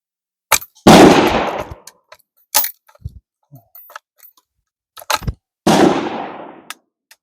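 Civil War carbines fire at a shooting competition range: several sharp, loud reports spaced a few seconds apart, two of them with long ringing decays, plus smaller clanks and knocks between shots.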